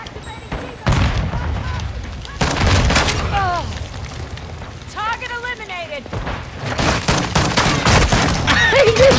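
Shotgun gunfire in a first-person shooter match, several loud close booming blasts spaced across the clip, with game voice lines and a player talking between shots.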